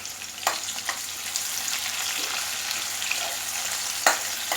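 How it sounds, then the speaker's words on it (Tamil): Onions, including small shallots, sizzle in an oil-filled pan for Tamil tomato gravy, a steady frying hiss broken by a few sharp stirring clinks of a utensil against the pan. "இதுவும் நல்லா வதங்கட்டும்."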